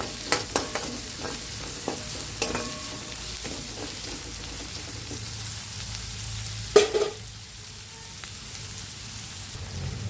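Onions and tomato fry in a pan with a steady sizzle, broken by several stirring scrapes and a louder knock near the middle; no one speaks.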